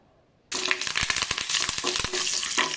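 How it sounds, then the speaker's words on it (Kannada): Curry leaves dropped into hot tempering oil while making patrode palya, bursting into a loud, close sizzle after a short quiet moment, with crackling pops running on continuously. "ಈಗ ಪರಿಮಳಕ್ಕೆ ಕರಿಬೇವಿನ ಎಲೆ ಹಾಕೋಣ."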